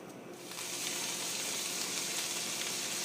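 Onions sizzle steadily in a hot pan, a dense, close, continuous hiss that swells slightly after the first half second and then holds level, with no talking.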